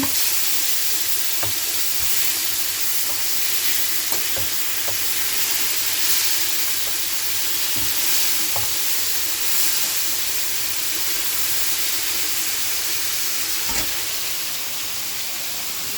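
Koi fish fries in hot oil with a loud, steady sizzle that hisses throughout, broken by a few soft clicks of a utensil against the pan.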